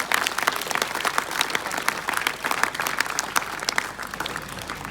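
An audience of students claps steadily and fairly loudly for several seconds, a dense and continuous patter of many hands with no talking over it.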